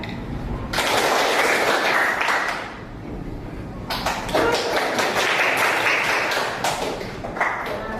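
Hand claps in a classroom concentration exercise, two bursts of sharp, rapid clapping from a group, the first lasting about two seconds and the second longer and denser, close and loud with faint voices between.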